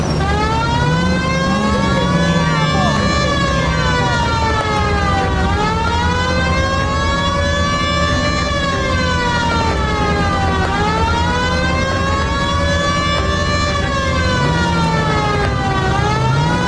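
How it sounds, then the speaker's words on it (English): A loud wailing police car siren in L.A. Noire sweeps up and down in slow repeated cycles, continuous and close, with engine rumble underneath. "Use the goddamn siren."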